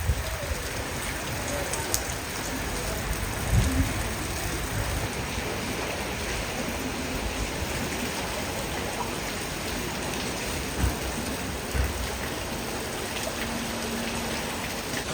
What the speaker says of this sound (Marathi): इतका पाऊस पडतोय